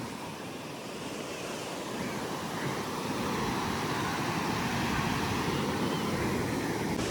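Ocean waves wash steadily onto a calm, peaceful beach, a continuous broad roar of surf that swells slightly louder midway, with some wind buffeting and no talking.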